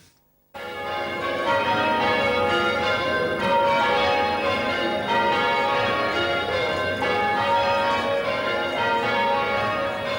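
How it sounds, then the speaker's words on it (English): Church bells rung by campanologists peal continuously after a short silence, overlapping tones ringing out loud and steady without any voices. "To many people, the peal of church bells is just a reminder that it's Sunday"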